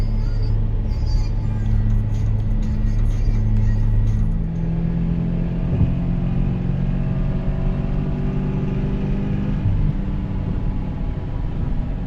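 Toyota A90 Supra accelerating, a steady, loud engine drone with low tones that climb gradually, heard from close by with no talking.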